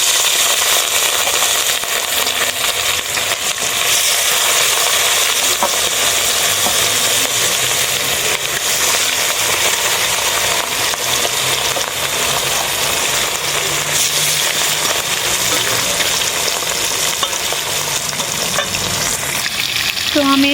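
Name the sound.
fish frying in hot oil in a pan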